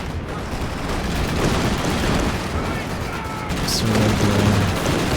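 Strafe attack gunfire in a competitive video game match, a dense continuous roar of rapid shots and booms under an excited commentator's voice, loud and sustained with no clear gaps.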